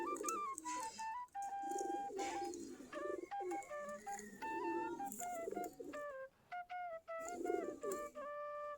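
Native Bangladeshi Giribaz pigeons coo repeatedly in a loft, soft rolling calls overlapping in a steady chorus, close and moderately quiet, alone without talk.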